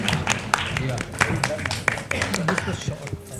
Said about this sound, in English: can we have a round of applause for RPPL